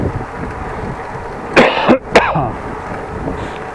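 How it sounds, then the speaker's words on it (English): A couple of sharp, harsh coughs with throat clearing, close by, over a low background rumble. "Sorry for that coughing."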